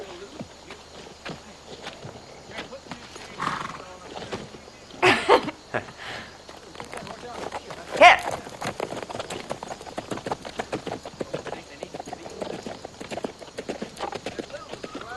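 Hooves clip-clopping on hard ground at a slow walk, fairly close, with some rustling and a few louder knocks.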